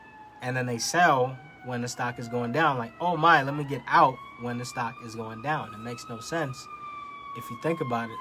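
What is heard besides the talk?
police siren in background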